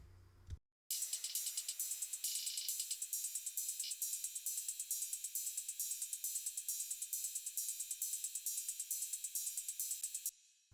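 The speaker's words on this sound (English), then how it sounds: "And all the cymbals together sound like this." Layered cymbal tracks from an electronic pop production play together as a bright, steady stream of rapid hissing hits and washes that run evenly for about ten seconds after a brief lead-in.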